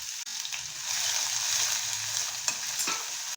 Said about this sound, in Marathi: आपण ॲड करायचे जिरं, कढीपत्ता आणि हा जो आपण कांदा कापून ठेवला आहे तो मी ॲड करते आहे.